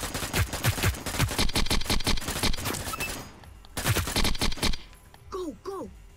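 Burst gunfire from a weapon in the video game Hyper Scape, rapid, loud repeated shots in quick strings, pausing briefly before another volley, with a voice speaking near the end.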